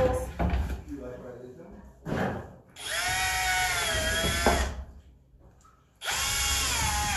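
A power drill bores more holes into a DIY wooden bird house: two long, loud whining bursts, close by, separated by clunks of handling and a brief pause.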